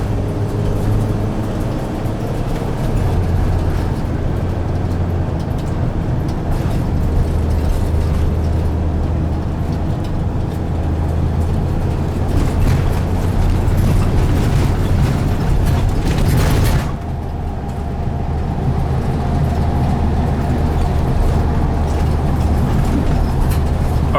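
A Dodge Sprinter van drives on the road, heard from inside as a steady low engine and road rumble that briefly dips partway through, with no talking.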